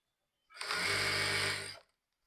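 A sewing machine stitches a polka dot cut-out dress, running in one steady motor burst of about a second and a half, close and loud, with no talk.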